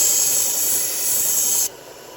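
Knife blade sharpened on a 1x30 belt grinder, a loud, steady hissing grind of abrasive belt on steel for under two seconds that then drops abruptly to a quieter running hum.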